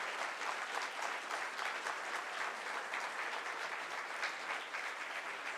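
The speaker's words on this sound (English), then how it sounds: "I request all the guests here to give them a big round of applause." An audience applauds steadily throughout, a dense even wash of clapping at moderate distance with no voices.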